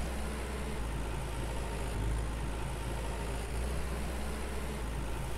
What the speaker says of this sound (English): Then we'll bring the big modern tractor over to that field right there.